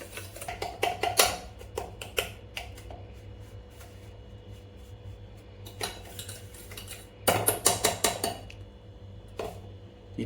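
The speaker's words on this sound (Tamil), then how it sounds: "போட்டுட்டு இதை நல்லா மிக்ஸ் பண்ணுவோம்." Butter and powdered sugar mixed by hand in a bowl for butter biscuits, giving irregular clinks and scrapes of a utensil against the bowl that come in bursts and pauses.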